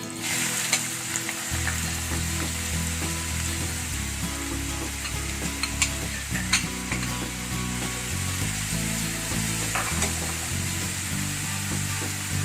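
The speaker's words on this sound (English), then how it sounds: "a generous amount of ghee to the pan, and let it come to a nice hot temperature. Then we will add our chopped onions to it." Chopped onions fry in a pan of hot ghee for mutton chukka, a loud continuous sizzle and crackle with occasional stirring clinks, close to the pan and with no voices.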